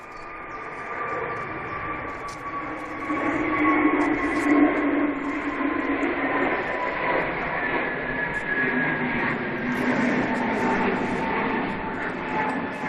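A Ryanair jet bound for Hurghada passes at Manchester Airport with a steady engine roar and faint whining tones, swelling slightly and then holding level throughout.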